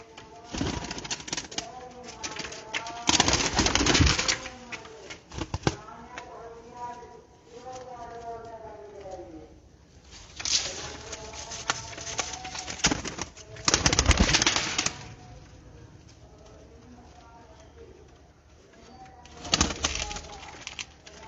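Pigeons coo in soft repeated phrases close by, broken by several loud bursts of wing flapping, while someone talks over much of it.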